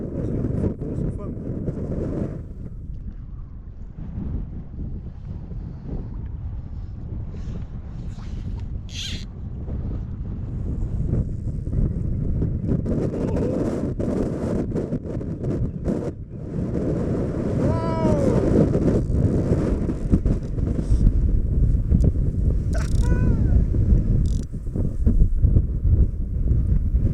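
Strong wind buffets the microphone on a lake in Donegal during boat fishing, a continuous low roar that rises in the second half, with people talking over it.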